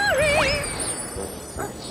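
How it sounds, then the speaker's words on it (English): Cartoon dog in a VeggieTales animated episode giving a quick high, wavering yip that warbles up and down, followed by fainter short yelps, loud and close with a jingling tinkle behind. "Tutu, stop that barking!"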